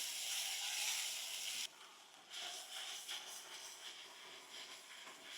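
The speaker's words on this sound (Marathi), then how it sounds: "अद्रक लसूण हिरवी मिरचीचा कच्चापणा जाऊस्तोवर व्यवस्थित परतून घेऊ" Ginger, garlic and green chili paste sautés in a pan with a soft, close sizzle that drops suddenly partway through, then carries on more quietly with small stirring flutters, and no one speaks.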